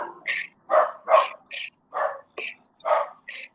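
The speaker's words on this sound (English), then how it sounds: "My ferocious dachshund is being ferocious." A small dachshund barks indoors in a steady series of about eight sharp, close barks and yips, evenly spaced, with no talking over them.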